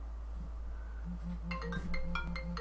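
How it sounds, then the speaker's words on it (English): A mobile phone rings with a bright, repeating melodic ringtone that starts about halfway through and plays over a low, steady hum and soft pulsing background tones. "And that's my phone."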